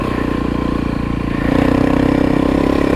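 A Honda CRF300L motorcycle with an aftermarket performance ECU lugs at low RPM in third gear off-road, giving a loud, close, steady thumping engine note. It rises slightly partway through.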